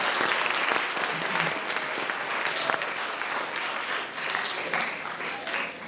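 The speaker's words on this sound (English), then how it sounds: "can we give Arshia and Black Panther Coffee a big round of applause?" A live audience gives a big round of applause at a talk honouring a coffee business, steady dense clapping sustained for several seconds with no talk over it.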